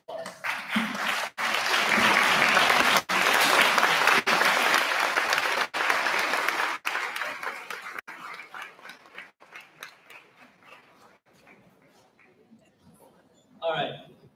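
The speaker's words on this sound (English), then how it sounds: "Let's stand up and give them a big round of applause." A graduation audience stands and applauds the graduates' families, a dense, loud wave of clapping that holds for about eight seconds, then thins to scattered claps and fades, with a brief burst of voices at the end.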